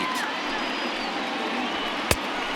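A video game crowd of more than 52,000 at Yankee Stadium on its feet in MLB The Show 20, a dense continuous roar of cheering with one sharp thud near the end.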